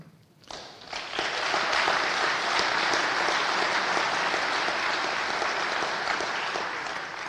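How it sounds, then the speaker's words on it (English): A crowd claps for hockey players and coaches at a number retirement ceremony, with applause rising after a brief quiet start and holding steady and dense to the end. "You guys obviously deserve a huge round of applause."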